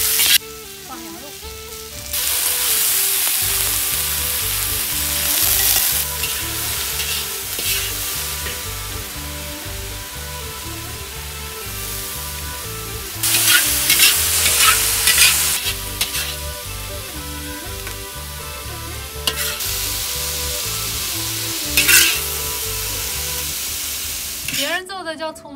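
Inner Mongolian lamb stir-fried with scallions in a hot wok, a loud continuous sizzle with surges as meat is tossed and scraped, over a steady burner rumble.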